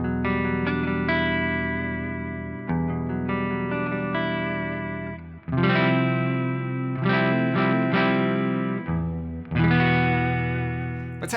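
Smooth clean electric guitar tone from the neck pickup of a Strat Ultra 2 with hall reverb, playing sustained chords and melodic phrases alone, with lush ringing decay between strums.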